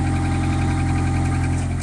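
A Honda Accord engine idling with a newly replaced muffler, a steady, close, low-pitched rumble with a deeper exhaust tone and a faint rhythmic pulse throughout.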